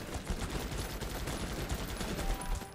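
Several units in Guns Up fire on a bunker, producing dense, continuous rattling gunfire that is steady and fairly distant, with overlapping shots and no pauses.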